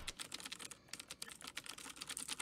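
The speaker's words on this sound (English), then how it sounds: "Type in, furious typing." Fast, furious typing on a computer keyboard, a dense run of loud close key clacks with no pauses and no voices.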